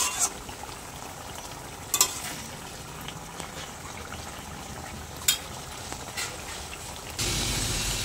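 Hilsa fish fries in a pan with a soft, even sizzle, broken by a few sharp clatters of turning the pieces and a louder hiss near the end.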